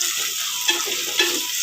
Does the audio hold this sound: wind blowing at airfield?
no